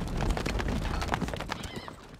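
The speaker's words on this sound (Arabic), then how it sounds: "الفرس تعدو" A horse gallops in Stronghold Crusader, a medieval strategy video game, with quick, rhythmic clip-clop hoofbeats and a whinny, moderately loud and alone.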